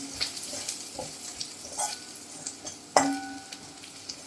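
Spices and turmeric are sautéed in a pan for a moth bean usal, with soft sizzling and scraping stirs, then one sharp clink of the utensil near the end. No one speaks.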